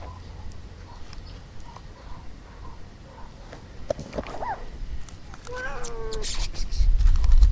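A stray cat meows several times up close, with a rising, wavering cry and soft footsteps nearby and a low rumble growing at the end.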